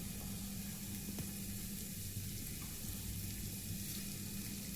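Cashew and onion paste frying in a pan for paneer gravy, a soft constant sizzle with faint stirring scrapes, low and unbroken throughout.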